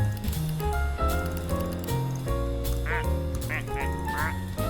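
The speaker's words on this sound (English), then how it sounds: "If I click William Duxford, they quack." Plastic ducks in a video game give cartoonish synthetic quacks when clicked, a few short bright squawks over steady game music, with a voice talking alongside.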